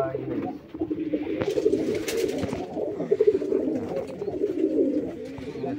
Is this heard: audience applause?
no